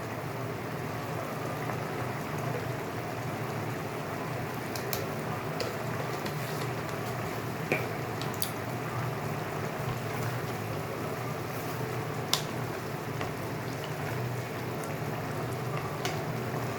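Mixed vegetables cooking in a pan over a gas flame, with a quiet, steady sizzle and soft bubbling throughout and a few faint clicks scattered across it.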